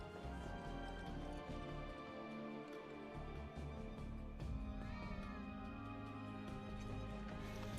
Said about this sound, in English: Oh, there's kitties up here too.